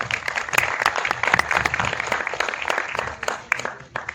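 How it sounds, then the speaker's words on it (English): Audience applause at a film trailer launch event, a crowd clapping in a hall with sharp individual claps over a busy wash, moderately loud and steady before tapering near the end. "big round of applause, please."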